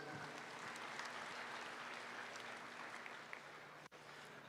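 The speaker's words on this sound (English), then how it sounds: "Let's give them one big round of applause" Faint, distant audience applause at a livestock show in an expo arena, honoring a market barrow class winner among dark crossbred hogs, a steady wash of clapping with a brief thump near the end.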